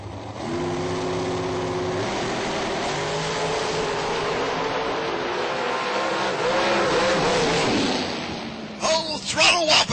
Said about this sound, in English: Throttle whopping going on.